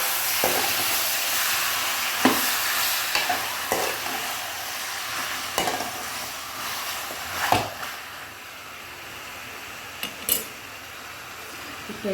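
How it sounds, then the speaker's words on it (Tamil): Chicken sizzling in a hot pan for spicy pepper chicken, with a steady loud frying hiss broken by a few sharp stirring scrapes and clinks of the spoon against the pan. "சிக்கனை போட்டு நல்லா வதக்கலாம்."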